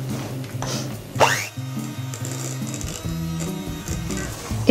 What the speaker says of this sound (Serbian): Umutit ću malo mikserom.